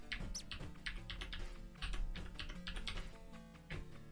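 Rapid keyboard typing, close and steady, with clustered key clicks and brief pauses throughout.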